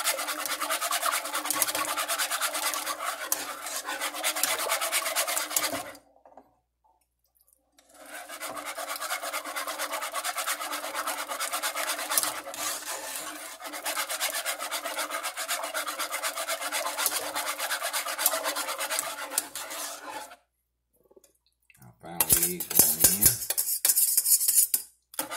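Eggs being mixed into German chocolate icing in a pan, a steady scraping and rubbing of utensil against metal that runs for long stretches, breaks briefly, then resumes, with a sharper clatter near the end.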